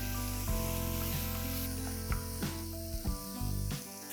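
Finely chopped onions with a pinch of asafoetida frying in a pan give a loud, close sizzle, broken by several sharp scraping clatters of a utensil stirring against the pan, with no talking.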